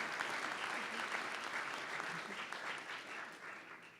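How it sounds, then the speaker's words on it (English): A round of applause from the audience at an annual awards convocation honoring excellence, moderately distant clapping that holds steady and then thins out toward the end. "Let's give him a round of applause."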